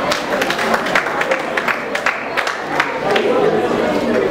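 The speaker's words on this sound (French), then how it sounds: "On l'applaudit, s'il vous plaît." An audience applauds, with steady clapping spread through a crowd and murmured chatter mixed in, while a voice speaks over it.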